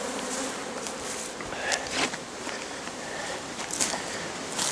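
Honeybees from a young nucleus colony flying around the hive entrance, a steady soft buzzing drone with occasional louder passes of individual bees close by.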